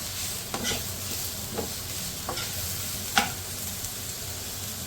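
Vegetables stir-fried with garlic in a hot pan for a chow mein, a steady close sizzle with several sharper scraping stirs of the spatula spaced across the clip, no voices.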